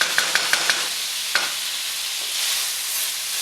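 Steady hissing sizzle of a stir fry cooking in a large pan, with a few sharp clicks of a utensil stirring and scraping at the start and again shortly after, close and continuous without talk.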